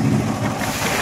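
Strong gusty wind roars over a river in the Sundarbans from a fishing boat, a loud continuous rush buffeting the microphone.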